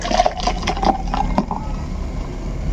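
Sprite soft drink poured into a container for a homemade energy drink, a short close liquid gurgle and splash with a few bright drips, loud and steady for under three seconds.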